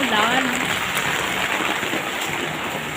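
Heavy rain pours down in Bahrain, a dense, loud, continuous hiss of drops on surfaces, with a faint voice briefly audible at the start.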